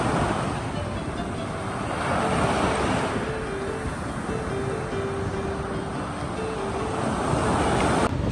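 Ocean waves roll onto Long Beach on Perhentian Island, a steady, loud wash of surf mixed with wind buffeting the microphone, swelling gently and continuing throughout without pause.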